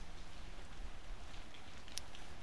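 Gentle rain in the game Magical Diary makes a quiet, steady hiss with light scattered drops and a brief brighter tick near the end.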